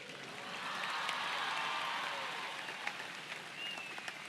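Audience at a Hindi comedy show applauds in a sustained, even burst of clapping, moderately distant and steady for several seconds before easing off.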